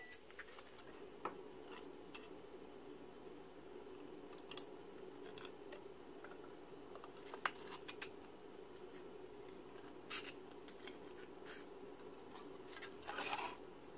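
Scissors cut down a homemade straw canister, giving quiet, sparse snips and clicks at irregular intervals in a hushed room.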